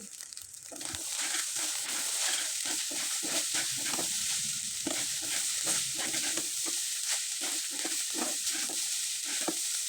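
Semolina noodles fry in a pan while a utensil stirs and scrapes them in a steady rhythm, over a continuous close sizzle.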